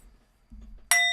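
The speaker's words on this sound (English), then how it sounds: "What are you ringing God's bell there?" A small bell gives one bright ring that rings on at the very end, after a soft low thump, with no talking.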